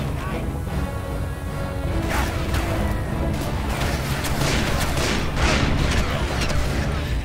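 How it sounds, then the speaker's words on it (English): Enemy gunfire in the video game Call of Juarez: Bound in Blood, a dense, continuous barrage of loud shots and cracks that grows heavier midway, with game sounds layered underneath. "we got guys up there shooting at us"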